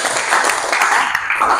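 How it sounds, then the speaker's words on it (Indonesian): Brief classroom applause at a physics lesson, a short burst of fairly loud, dense clapping with faint voices mixed in. "tepuk tangannya dulu dong"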